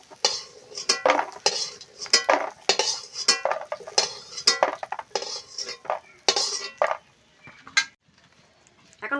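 A metal spoon scrapes and clinks against a pan, scooping fried lentil bori out of hot oil in a village-style kitchen, with a rapid string of close, sharp taps and scrapes, a faint sizzle underneath, then a short pause near the end.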